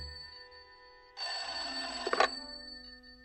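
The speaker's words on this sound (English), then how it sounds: "Sounds like the phone to me." An old-fashioned telephone bell rings once in a single sustained burst of about a second, loud against a quiet room, with no talking over it.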